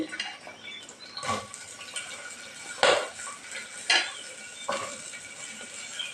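A spoon stirs and scrapes against a pan as chopped onions fry with a soft sizzle, with distinct metallic clinks spaced a second or so apart over a quiet background.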